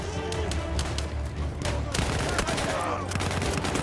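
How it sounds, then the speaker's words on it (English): Bursts of rapid gunfire crackle over loud battlefield din in the Battlefield 1 World War I shooter, a three-round burst weapon firing repeatedly amid explosions and shouting voices. "Oh, it's a 3-round burst gun."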